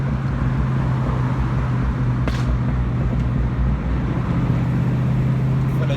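Steady low engine drone and road rumble from inside a moving car, constant and fairly loud throughout, with one brief faint click partway through and no talk.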